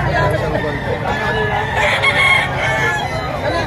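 Chickens cluck and a rooster crows at a poultry auction in Lipa, Philippines, amid a noisy, crowded background with people talking, the birds close and fairly loud throughout.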